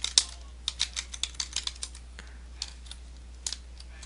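Someone types code on a computer keyboard, sharp clicky keystrokes in short bursts with pauses, close and fairly quiet against a low steady hum, with no voices.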